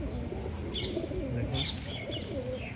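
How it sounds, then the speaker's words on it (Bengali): Domestic pigeons in a home loft give soft, low cooing calls that rise and fall throughout, close by over a steady background hum, with a brief spoken word. "এই পায়রাটা কোথা থেকে এসেছে জানি না, একটা নতুন অতিথি পায়রা"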